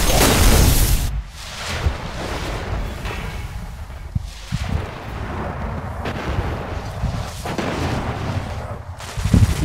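Heavy gunfire and booming blasts fill a Destiny Iron Banner multiplayer match, with dense, continuous shots and rumbling impacts at high loudness throughout and no voices over them.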